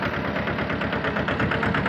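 A small tractor engine runs steadily while hauling a loaded maize trolley, giving a close, even chugging throb with a regular pulse and no voices.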